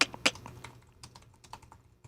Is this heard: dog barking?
no